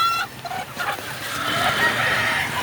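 Laying hens clucking and a rooster's call nearby on a poultry farm, with scattered clucks over a soft background hum.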